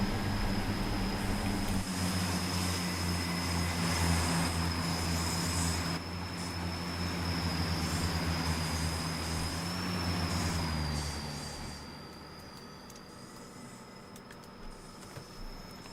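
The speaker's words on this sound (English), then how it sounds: "Raw Cummins power and screech." A BR Class 142 diesel multiple unit with a Cummins engine in a train simulator game, its diesel drone rumbling loudly with a sustained high wheel squeal over it, the engine easing and fading toward the end.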